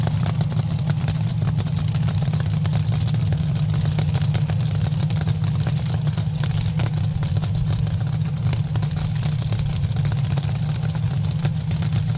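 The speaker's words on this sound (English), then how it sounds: "he gave it a quick pedal and just kind of idled down" Top alcohol dragster engine at the drag strip settling into a loud, steady, lumpy idle with a deep throbbing low drone throughout.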